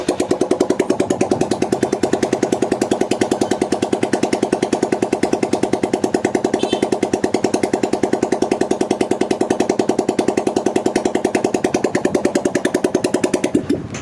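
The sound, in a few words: Hero Karizma motorcycle engine starting and running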